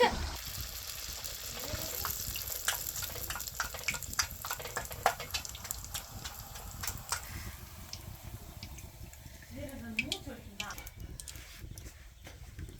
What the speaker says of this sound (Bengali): পিঠার গোলা প্রস্তুত, এখনই তৈরি করা হবে সেই তেলে পিঠা।